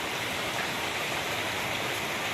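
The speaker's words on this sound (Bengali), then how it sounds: "মুষলধারে বৃষ্টি পড়ছে, বিদ্যুৎও চমকাচ্ছে, আর বাইরের হাওয়াটা খাতারনাক হাওয়া।" Heavy rain pours outside a balcony at night, a dense, unbroken wash of hiss that stays steady and fairly loud throughout the short stretch.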